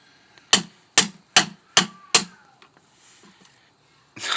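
A hammer strikes a socket extension five times in a steady rhythm while Bilstein shocks go onto a Ford Ranger. The blows are close, sharp and metallic, each ringing briefly, followed by quiet and then another hit starting at the end.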